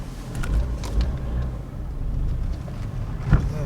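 A flipped car drives into a driveway, its engine a steady low rumble close by, with a few faint knocks and a brief thump near the end.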